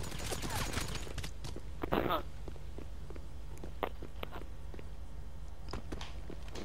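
Scattered gunshots pop in a GTA 5 session, sharp, fairly faint cracks spaced irregularly, with a brief rattling flurry early on, all under a steady background bed and talk.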